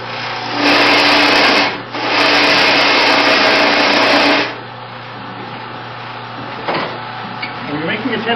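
A wood lathe cuts a tenon on a turned piece with two loud rasping cuts of roughly a second and two and a half seconds, a short gap between them, then the motor hums quietly.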